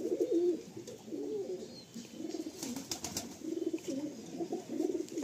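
Chotiyal pigeons in a loft coo in repeated throaty rolls, several phrases in a loose rhythm, close by and clear against a quiet background with occasional sharp clicks.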